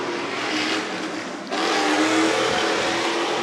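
Off-road race truck engines firing up and running during practice at Nashville, a steady loud broadband roar that jumps in intensity about halfway through and holds, with no talk over it.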